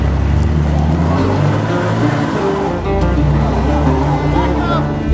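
An old Ford truck with an inline six-cylinder engine revs hard and spins its tires during a tug-of-war, a loud sustained engine drone with steady harmonic roar and tire noise, people talking over it.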